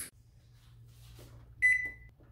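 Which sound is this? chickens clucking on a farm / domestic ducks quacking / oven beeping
oven beeping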